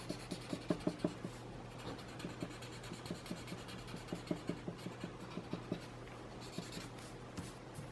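Graphite pencil shading and blending on paper, a steady run of soft scratchy strokes with rhythmic rubbing peaks, close and quiet under a low constant hum.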